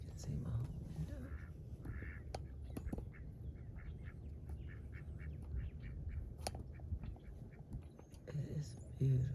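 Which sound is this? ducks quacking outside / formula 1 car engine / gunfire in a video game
ducks quacking outside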